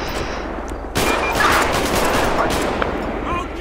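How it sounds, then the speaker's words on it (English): Gunfire in the GTA V LSPDFR police mod erupts in a loud, dense burst after a short lull, sustained rapid shots layered with a faint voice in the background. "That shot's fired."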